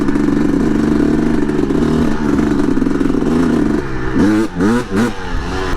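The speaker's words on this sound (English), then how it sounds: "Boom, rip through it. Do a little wheelie," A dirt bike engine runs loud and close while riding over rough terrain, with a steady roar that breaks into several sharp revving surges near the end.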